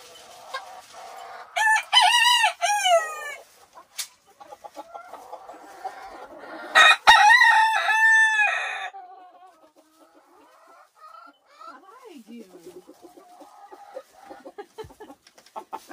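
Several roosters on a homestead farm crow in long, loud calls, two strong bursts close by, then quieter clucking and scattered farmyard noises.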